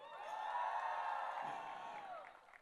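A crowd cheers, whoops and applauds for actress Raashii Khanna at a film trailer launch, a loud swell of shouting voices that fades after a couple of seconds.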